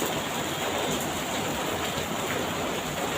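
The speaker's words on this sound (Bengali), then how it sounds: "সাংঘাতিক জোরে বৃষ্টি পড়ছে" Heavy rain pouring down outdoors, a dense, loud, unbroken hiss of falling water with no voices.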